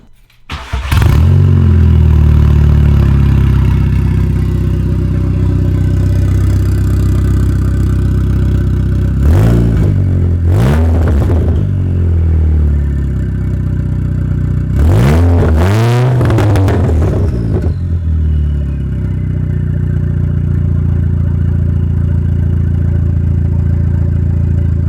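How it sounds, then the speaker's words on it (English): A modified MK2 Audi TT-S Quattro with an open downpipe cranks and fires into a loud, deep, close idle, then snaps through two sharp revs that rise and fall before settling back to a rumbling idle. "we got to do the open downpipe start"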